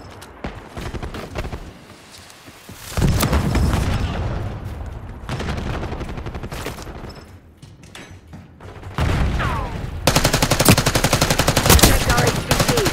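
Call of Duty Black Ops 6 gunfire, loud rapid automatic bursts coming in long stretches with short pauses, joined by louder sustained firing near the end, with voices in between.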